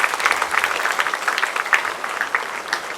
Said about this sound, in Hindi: आप सभी दर्शक गणों से अनुरोध है कि तालियों की गड़गड़ाहट से इनका अभिनंदन करें।